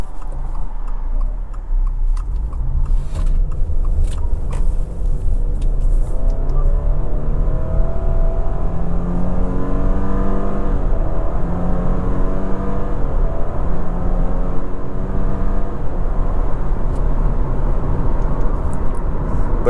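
A 2024 Subaru Crosstrek Limited cruising on the highway, loud steady road and engine drone from inside the cabin with a faint ticking, continuous with no talking.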